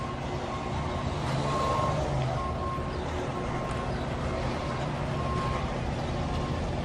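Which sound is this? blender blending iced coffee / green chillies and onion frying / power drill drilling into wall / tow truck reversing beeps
tow truck reversing beeps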